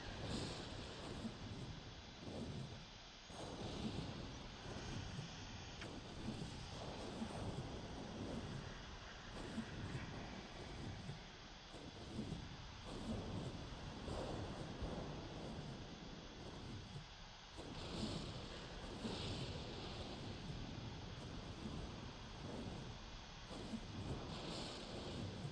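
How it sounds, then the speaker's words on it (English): Thunder from a lightning storm in Ark Survival Evolved, a steady low rumbling roar that rolls on continuously, faint and distant, with no voices. "A lightning storm."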